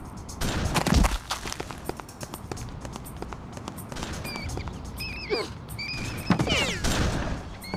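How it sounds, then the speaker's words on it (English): Enemy gunfire aimed at the player in the action game BloodRayne, irregular sharp shots and bursts mixed with footsteps and game effects, fairly close and loud. "Another guy shooting at me?"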